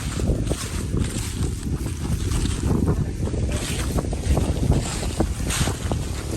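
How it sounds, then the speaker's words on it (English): Strong wind on a mountain backpacking trail in the Smokies buffets the microphone, a loud continuous roar with gusty rumbling throughout. "It's just really windy."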